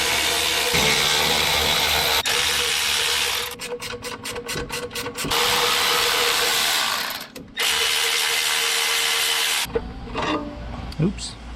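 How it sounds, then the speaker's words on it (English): A handheld electric wrench buzzes and rattles in bursts while pulling bolts from a 1978 Ford F100 power steering pump, with brief pauses and clicks between runs and a quieter clanking tail near the end. "Let's put the electric wrench on here."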